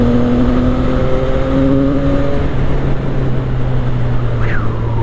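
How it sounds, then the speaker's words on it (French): CF Moto 675 SR-R motorcycle cruising on a rough road, its exhaust giving a steady, fairly loud humming drone with a brief rising tone that fades partway through. "on a toujours cette petite mélodie de l'échappement qui va très très bien"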